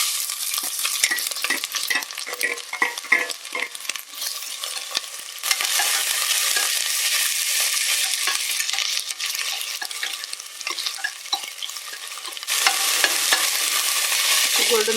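Onions fry in hot oil after the bay leaf, with a loud, continuous sizzle and frequent scraping strokes of a spoon stirring them around the pan throughout.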